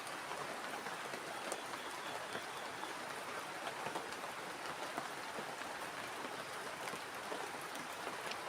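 Steady rain falls at night on a campsite, a dense, even hiss of drops on surfaces holding for the whole stretch with no voices.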